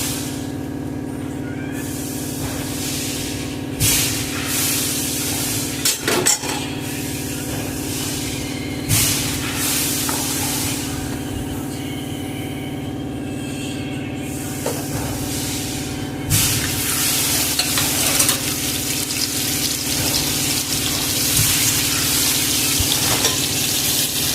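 Whole cumin, chopped onion and split chillies tempering in hot oil in a pan, a steady loud sizzle and hiss running throughout, with occasional utensil scrapes and stirring bursts breaking through.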